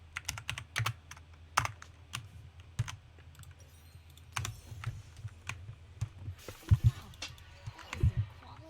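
Fast typing on a computer keyboard, with close, crisp key clicks in uneven bursts that go on throughout and a few heavier thumps near the end.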